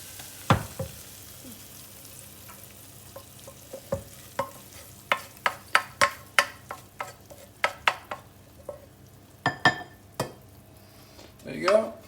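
A spoon scoops and scrapes thick, cooled brigadeiro, a Brazilian chocolate sweet, out of a pan. The sounds are a series of close, sharp scrapes and taps, uneven in rhythm and denser toward the end, in an otherwise quiet room.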